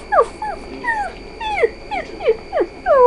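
Several dogs whimper and yip while playing, a run of high, sliding whines repeating close by every half second or so, with no talk.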